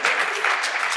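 A short burst of dense clapping from many hands in a conference audience, steady and fairly loud throughout, with no voices standing out.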